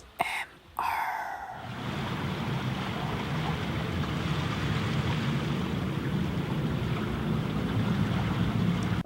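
Steady rushing of flowing water at Binaeseom river island in Chungju, South Korea, fills the clip, broad and continuous, after a brief voice and handling noise at the start.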